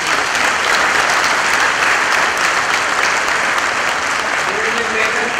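Graduation audience at a medical college convocation in Muzaffarabad, Azad Kashmir, breaks into loud, sustained applause, a dense wash of many hands clapping steadily throughout without letting up.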